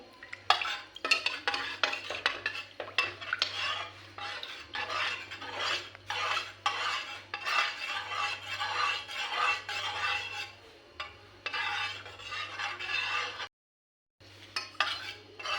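Repeated scraping and clinking of a spoon stirring dry fruit custard mixture in a pot, steady and close for most of the time with a brief pause near the end, over a low constant hum.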